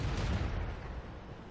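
Tank gun shot in the video game World of Tanks: a single heavy boom with deep low rumble that decays over about a second.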